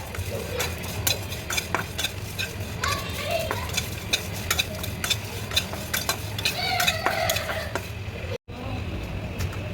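Crushed garlic and two chilies hit hot mustard oil while a spoon scrapes and stirs the pan, giving a sizzle under repeated sharp metallic clinks and taps, with a brief dropout near the end.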